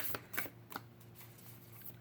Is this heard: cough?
no